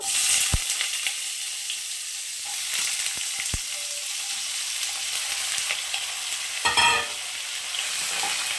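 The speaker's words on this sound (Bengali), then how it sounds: "এখন আমি এর মধ্যে আলুটাকে দিয়ে দেব" Potatoes fry in a pan with lightly toasted panch phoron for a cauliflower-potato dish: a steady, close hiss and sizzle with a few sharp clicks and stirring scrapes, no voices.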